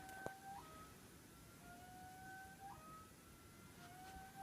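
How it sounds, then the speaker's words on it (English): Water heating up on a stove gives a faint, wavering whistle-like tone that slides between pitches, steady and soft, resembling a distant siren. "Sounds like a siren, but it's just the hot water heating up."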